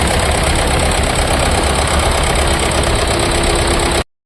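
Mercedes-Benz C250 CDI diesel engine running with faulty injectors, firing on only two cylinders, a loud, close, continuous rough idle with a knocking rumble that cuts off abruptly at the end.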